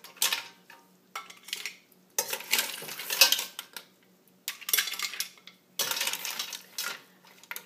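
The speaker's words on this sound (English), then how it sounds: "So using a slotted spoon, just pull them all out." A slotted spoon scoops cooked mussels out of a pot, with bursts of clattering, clinking shells and metal scraping against the pot, separated by short pauses; no voices.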